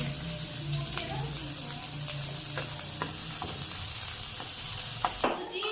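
Garlic paste frying in hot oil in a pan, a steady close sizzle with a few soft clinks of a spoon stirring throughout.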